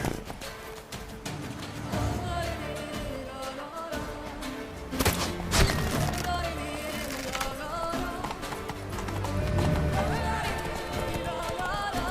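Horse hooves galloping in The Witcher 3 game, a steady clopping run carried under a dense, busy game soundtrack with a brief louder swell midway.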